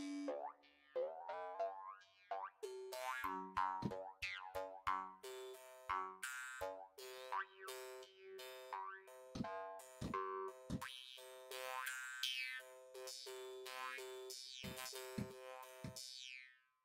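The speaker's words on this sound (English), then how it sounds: "Typical mouth harp sound." A sampled mouth harp plays a busy sequence of twangy, springy plucks with buzzing, wah-like pitch sweeps, fairly quiet and with no voices.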